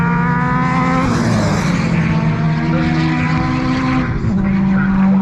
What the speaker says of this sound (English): John in the Mitsubishi Evo 9.